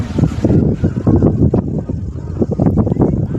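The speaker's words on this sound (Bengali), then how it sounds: "সুন্দর এখানে হাওয়া দিচ্ছে" Wind buffets the microphone outdoors, giving a heavy, uneven low rumble that rises and falls in gusts right at the mic.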